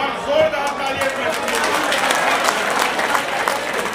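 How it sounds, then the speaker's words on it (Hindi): Loud audience applause at a poetry recitation gathering, dense clapping from a crowd that holds steady for several seconds, with some voices mixed in underneath. "एक बार जोरदार तालियां।"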